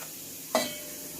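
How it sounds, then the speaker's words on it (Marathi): Spices dropped into hot oil in a pot for a village-style chicken curry give one sudden sizzling burst that quickly fades back to a faint steady hiss, with no talking. "हे मसाले घालून चांगलं परतून घेऊ"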